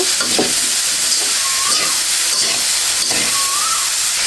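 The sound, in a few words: cabbage being stirred and fried with salt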